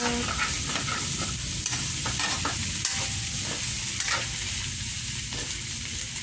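Spaghetti sauce with hotdogs sautéing in a pan, a steady close sizzle broken by repeated clicks and scrapes of a spoon stirring, with no talk.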